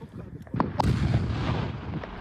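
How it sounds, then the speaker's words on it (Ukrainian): A deep, rumbling blast of detonated ammunition bursts out and rolls on with a heavy low roar, followed by scattered debris-like crackles fading over a couple of seconds. "Цей вибух зовсім невеликий."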